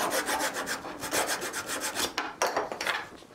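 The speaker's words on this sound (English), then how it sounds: "A little bit of sanding, we'll take that out." A wooden table board is sanded by hand in quick repeated rubbing strokes that are close and bright, ending with a few sharper, more separate scrapes, with no voices.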